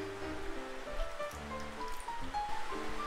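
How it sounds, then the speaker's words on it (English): Milk poured into a bread and egg mixture, a soft, faint, continuous liquid trickle with an uneven splashing texture. "Now I am adding the remaining milk"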